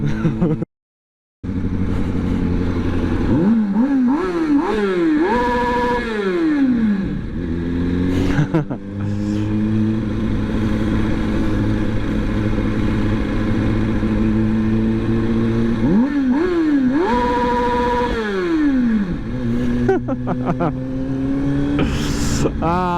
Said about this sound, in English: just revving the nuts of my bike like an antisocial bastard